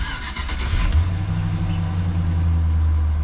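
A Chevrolet Silverado 4x4 pickup with cat-eye styling fires up and settles into a steady low idle, a brief cranking burst giving way to a continuous engine rumble close by, with no talk.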